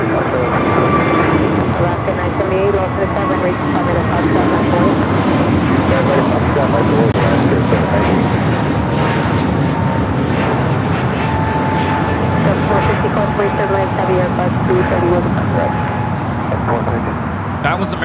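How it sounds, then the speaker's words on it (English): An American Airlines Airbus A321neo roars down the runway on takeoff from LAX, a steady, loud, broadband jet engine rumble with a whining tone that holds for the whole stretch without a break. "2073 taking off to Phoenix on the A321neo"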